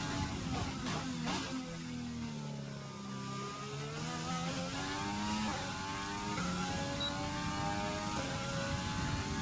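A Formula 1 car engine in the F1 2020 racing game revs loudly and continuously, with its pitch climbing and falling through gear changes and part-throttle running.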